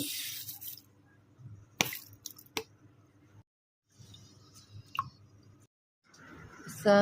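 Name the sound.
rinsing rice in water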